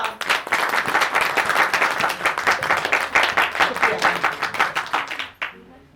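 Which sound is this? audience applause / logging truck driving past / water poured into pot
audience applause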